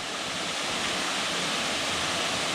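Princess Falls waterfall in Big South Fork, heard as a constant dense rush of falling water, close and steady with no breaks and no voices.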